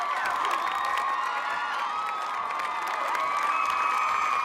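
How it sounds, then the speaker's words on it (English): A large crowd at an American Ninja Warrior qualifier cheers and whoops continuously, with shrill shouts and whistles riding over a dense, loud roar. "the crowd going nuts"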